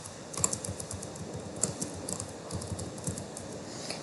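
A single-line Python comment typed on a computer keyboard: a close, irregular patter of light key clicks with a few sharper taps and no pauses.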